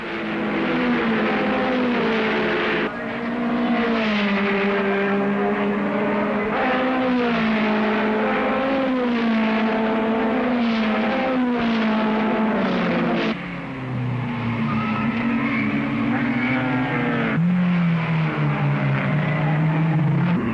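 1959 Formula One race cars, Brabham leading the BRMs and Coopers on the opening lap, blare past as a continuous loud engine wail whose pitch rises and falls with shifting gears, heard alone with no voices.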